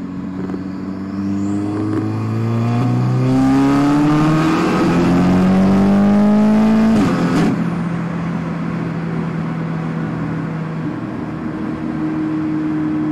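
A hybrid-turbo Audi S3 in manual mode with traction control off pulls hard in third gear, its engine note climbing steadily and loudly for several seconds before cutting off and settling back to a lower drone.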